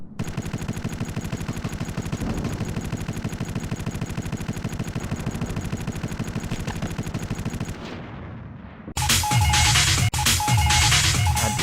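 A heavy automatic weapon in the video game Iron Storm fires one long, loud, unbroken burst of rapid shots. It tails off, then a harsher, louder burst of gunfire follows.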